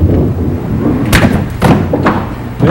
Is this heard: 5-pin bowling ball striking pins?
yes